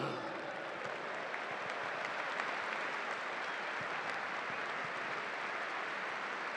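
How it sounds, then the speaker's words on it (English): Sustained applause from a live audience welcoming a former Albion footballer on stage, a dense steady clatter of clapping hands throughout with no speech over it. "let's have a huge round of applause for Brian Horton."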